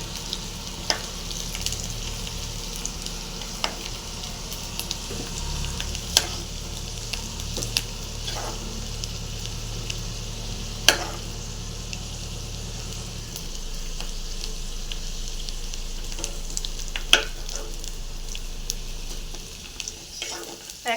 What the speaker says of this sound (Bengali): দেখো বন্ধুরা, আলুগুলো প্রায় ভাজা ভাজা হয়ে গেছে।